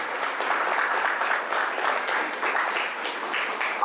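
Sustained audience applause at a cyber crime awareness workshop, a steady patter of many hands clapping throughout.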